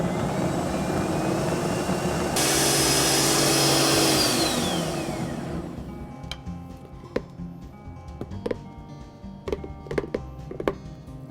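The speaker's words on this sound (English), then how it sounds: "after pureeing, we have a nice smooth sunchoke puree" A Vitamix blender purees sunchoke soup, its loud motor climbing in pitch and roaring steadily before winding down, followed by scattered light clicks and knocks.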